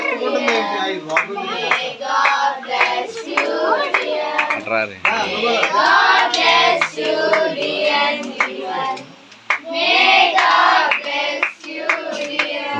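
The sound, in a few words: clapping at a birthday party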